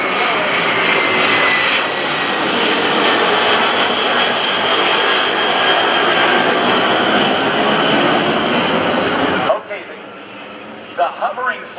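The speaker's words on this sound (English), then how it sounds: "The hovering flight is achieved by changing the direction of the nozzles to straight down." A Harrier jet hovers at a naval air station airshow, its engine roaring loud and continuous for about nine seconds before cutting off abruptly. A voice talks underneath.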